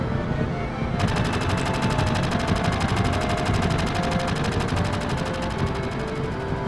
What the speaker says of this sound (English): That is the sound of Barrett shooting fireworks.